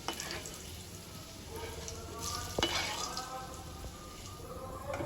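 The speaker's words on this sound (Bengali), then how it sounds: "দেখো আলুগুলো ভাজা হয়ে গেছে" Potatoes fry in oil in a pan for a desi chicken curry, giving a steady close sizzle with soft crackles and one sharper clatter midway.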